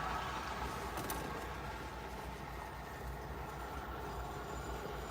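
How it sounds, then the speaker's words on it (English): Freight train rolling steadily past with old Canadian Pacific rapid discharge ballast hopper cars, a continuous loud rumble and rattle of wheels with faint squeals, close by and with no talk. "Some of those old Canadian Pacific rapid discharge ballast hoppers."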